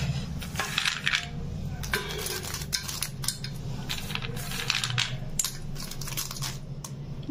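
Fried peanuts poured onto puffed rice in a bowl, giving a steady close crunching, rattling patter that continues throughout with small clinks of a utensil.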